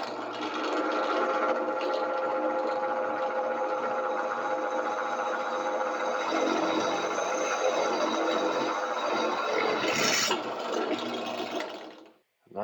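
A drill press grinds steadily through flat steel stock held in a vise, a loud continuous mechanical whir with a brief higher squeal near the end before the motor winds down.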